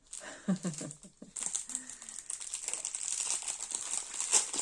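Plastic packaging on a diamond painting kit crinkles and crackles up close as it is torn open, beginning with a few separate rustles and then building into dense, continuous crumpling, with a brief voice early on.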